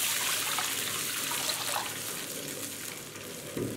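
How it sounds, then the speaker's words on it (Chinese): A big bowl of water goes into a hot wok holding oil, chili bean paste, ginger and garlic, giving a soft hissing sizzle and watery splash that fades gradually, close and moderately quiet. "接着倒入一大碗的清水，"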